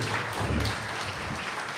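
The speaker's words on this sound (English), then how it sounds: "let's give Darya and Greg a round of applause" An audience applauding Darya and Greg after their presentation at an AI for designers event, a soft, steady patter of clapping that holds evenly throughout with no voices over it.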